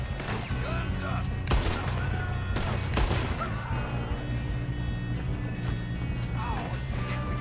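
Gunfire in Red Dead Redemption 2 during a train robbery shootout: several sharp shots ring out near the start, over a steady rumble of the moving train and game ambience.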